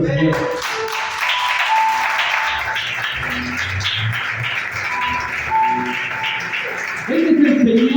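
Congregation clapping in a church during an evangelistic sermon: steady, moderate applause mixed with scattered shouts and voices, and a louder voice rising near the end.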